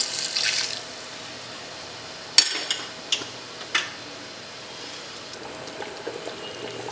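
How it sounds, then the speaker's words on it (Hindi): About 750 ml of hot water poured into fried mutton in a handi, a brief sizzling rush at first, then a few sharp clinks of utensils against the pot and a low simmer, close by. "ये सेपरेट पानी को गर्म कर लिया है। ये लगभग 750 ml है। इसे मैं डाल रहा हूँ"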